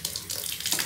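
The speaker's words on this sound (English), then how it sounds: "It squirts out water in the shape of Apple." Water sprays from an internet-connected Apple-shaped smart shower head in a bathroom, a brief steady hiss of running water heard close up, alone with no voices.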